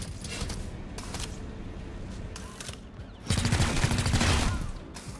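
Rapid bursts of robot gunfire in the XCOM Chimera Squad video game, a few short volleys followed by a louder sustained fusillade, close and sharp.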